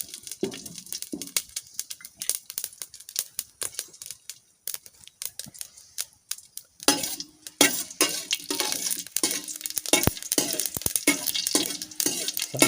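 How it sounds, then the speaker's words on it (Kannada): A teaspoon of mustard seeds hits hot oil in a pan, at first scattered pops and crackles, then after a few seconds a dense, steady sizzle with sharp spattering clicks throughout. "ನೋಡಿ, ಇವಾಗ ಎಣ್ಣೆ ಬಿಸಿ ಆಗಿದೆ. ನಾನಿವಾಗ 1 ಟೀ ಸ್ಪೂನ್ ಆಗುವಷ್ಟು ಸಾಸಿವೆಯನ್ನು ಹಾಕಲ್ತಿದ್ದೇನೆ."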